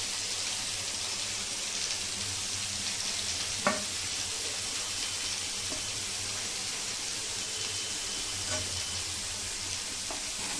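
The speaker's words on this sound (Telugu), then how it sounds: "ఆనియన్స్ మాత్రం ఎర్రగా వేయించుకోవాలండి." Onions frying in a pan for chicken curry, a dense hiss of sizzling oil like light rain, close and steady throughout with a few faint clicks of stirring.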